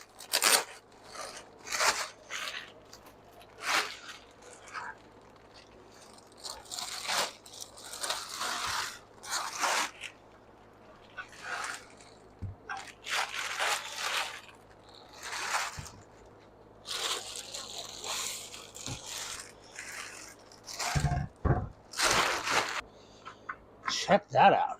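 A new aluminum radiator part is pulled from its plastic packaging bag, with repeated crinkling, rustling and tearing bursts close by, broken by short pauses and occasional talk.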